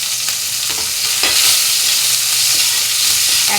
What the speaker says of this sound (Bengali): 1 মিনিট ভেজে নেব।